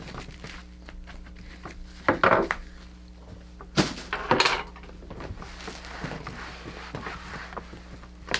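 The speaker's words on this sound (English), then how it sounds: "I'm using an old bread knife, which I just got at the secondhand store, and it gives me a longer knife edge here, and then I just go and cut it in here" An old bread knife sawing through floral foam, close and fairly loud, with several short bursts of rasping cuts and thumps against a quiet background.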